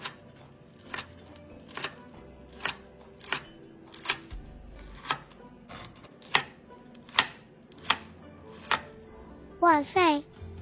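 A knife slices through crisp deep-fried pork ribs coated in fermented red bean curd, giving about a dozen evenly spaced, sharp cuts against a board, close up, followed by a brief tonal squeak at the end.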